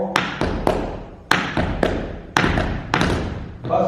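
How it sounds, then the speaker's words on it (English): Crisp tap-shoe strikes land in repeated groups of quick beats, a press cramp roll repeated on a hard floor, close and clear with no talking. "Press cramp roll."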